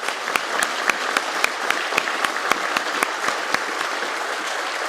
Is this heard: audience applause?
yes